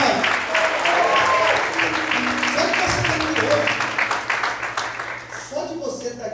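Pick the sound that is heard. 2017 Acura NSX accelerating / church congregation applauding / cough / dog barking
church congregation applauding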